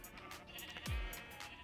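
A single sheep bleat from Minecraft Bedrock Edition rises and falls in pitch, fairly close and moderately loud over a faint steady game background.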